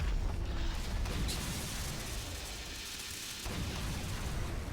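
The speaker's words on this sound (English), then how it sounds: "let's just overcharge this Minos Cannon now" An overcharged Minos Cannon fires in the strategy game Siege of Centauri, a deep booming blast with a rumbling tail that fades and then swells again, moderately loud with no speech.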